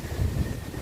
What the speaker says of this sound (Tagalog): Sapit-sapit talaga master yung buhok natin sa lakas ng hangin dahil amihan season na po dito sa Tagaytay